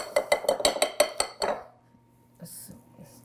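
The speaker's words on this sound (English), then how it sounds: "take my whisk, sorry, and get this stuff out of the whisk" A kitchen whisk knocked against a mixing bowl to clear out thick dough for zeppole: about ten quick, evenly spaced metallic clinks over a second and a half, then a short pause and a few faint scraping taps.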